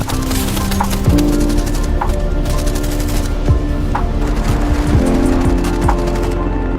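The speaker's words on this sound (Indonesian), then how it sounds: "Di tengah pengejaran itu terjadilah kontak senjata." Loud, dense gunfire from a film car chase, with rapid bursts of shots and some single cracks layered over constant engine and action noise, with no speech.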